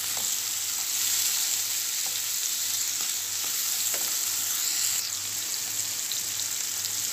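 Tomatoes and pepper sizzle in a hot pan, a steady close crackling hiss with occasional stirring clicks, no voices present.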